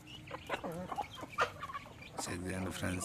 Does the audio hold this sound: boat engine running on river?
no